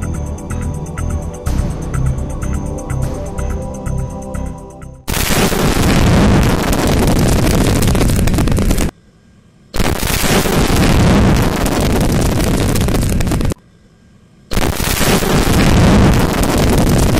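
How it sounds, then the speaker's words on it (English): A GQM-163A target missile launches on its Mark 12 solid propellant booster with a loud, sustained roaring rush. The roar cuts off abruptly twice and resumes, and a lighter, ticking ambient passage comes before it. "The GQM-163A design uses a Mark 12 solid propellant booster to launch the vehicle"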